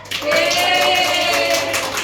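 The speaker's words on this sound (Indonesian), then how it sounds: "Tepuk tangan." A short burst of clapping from a small group, dense and steady for about two seconds, with a sustained tone ringing faintly underneath.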